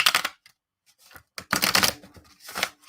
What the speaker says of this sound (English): Yeah, it shuffles really nicely.